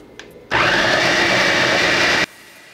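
Kitchen blender mixing corn cream at low speed, switching on abruptly with a loud, steady whir for about two seconds and then cutting off, with no talking.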